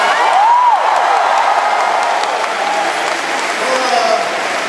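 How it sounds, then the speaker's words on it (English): A crowd applauds a speaker's introduction at a presidential visit to UB, a broad continuous wash of clapping with a few whistles and cheers rising over it, held steady throughout. "Give her a big round of applause"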